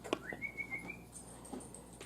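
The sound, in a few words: person whistling to call a dog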